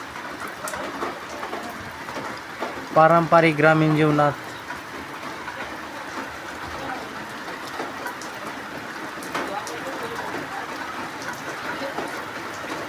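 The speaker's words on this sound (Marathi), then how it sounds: "चांगली एक सततधार चालू झाले. सगळं नुकसानीचा पाऊस चालू आहे बघा." Steady heavy rain pours down on a farm in a rural village, with an unbroken hiss throughout. A brief burst of singing or melodic voice rises over it early on, and a voice speaks at points.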